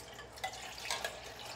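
Juices being poured out of a can while making spicy chili, a soft trickling, dripping pour heard up close with a few faint splashes and no talking.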